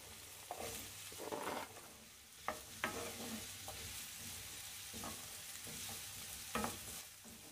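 Carrots and other vegetables cooking in a pan, quiet sizzling with intermittent scraping stirs and a few sharp clicks of a utensil, close but faint, with no speech.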